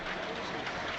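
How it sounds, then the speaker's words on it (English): A football stadium crowd applauding during a Southampton versus Sunderland match, a steady broad wash of clapping heard from a distance that holds evenly for the whole moment. "The applause."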